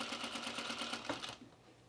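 Sewing machine stitching a dress seam, a quiet rapid run of even mechanical clicks that stops abruptly partway through.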